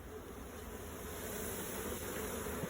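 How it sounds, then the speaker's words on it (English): A shaken honeybee swarm gives off a steady, moderately quiet buzzing hum that holds evenly throughout, with a faint thump near the end and no talking. "we're shaking bees"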